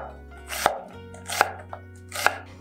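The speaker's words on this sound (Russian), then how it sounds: "и нарезаю лук полукольцами" A knife slices an onion into half rings on a cutting board, giving three crisp, evenly spaced chops close to the mic, with a fainter tap between the second and third strokes.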